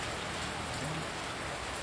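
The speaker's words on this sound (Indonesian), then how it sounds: "Hujan lah, basahan gitu." Steady rain falls outdoors in a dense, even hiss with no breaks.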